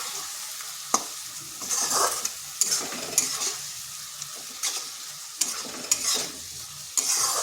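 Ground cumin, coriander and Kashmiri chili powder masala stir-fried in a pan, a steady soft sizzle broken by repeated scraping strokes of a spatula every second or so, close and fairly quiet with no talk.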